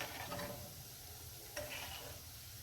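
Boondi frying in hot oil for laddu, a soft, steady sizzle with faint stirring clicks and one sharper tap partway through, close and low in level with no talking.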